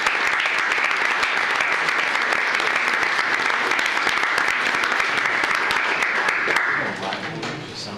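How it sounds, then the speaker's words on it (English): Steady audience applause fills a county commissioners court meeting room, dense clapping holding evenly for about seven seconds before thinning out at the end. "let's give them a big round of applause"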